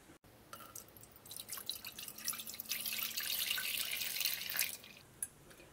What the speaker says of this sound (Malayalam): ഈ വെള്ളം കുക്കറിലേക്ക് ഒഴിക്കും.